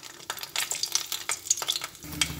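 Bori, Bengali lentil dumplings, frying in hot oil in a wok, a dense crackling sizzle with stirring clatter, close and steady with no voices.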